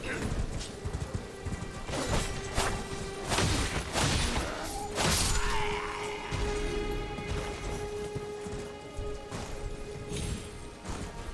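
Horse hooves galloping in Elden Ring on PS4, rapid clip-clop thuds mixed with crashes, impacts and a brief whinny, loud and busy throughout a game battle.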